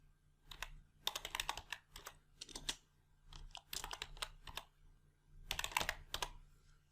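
Quiet keystrokes tap on a computer keyboard as a cell entry is typed in an Excel spreadsheet, coming in short irregular clusters over a low steady hum.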